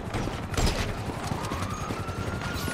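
Burst of gunfire from a SWAT team in the video game GTA V, sharp shots crackling over a dense, busy game soundscape with steady background noise throughout.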